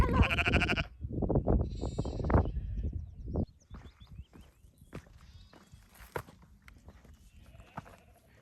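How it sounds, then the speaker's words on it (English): Several loud, close sheep bleats overlap on a valley footpath where sheep are sitting, followed by quieter footsteps and faint rustling as the walker moves past them. "There's so many sheep sitting on the path."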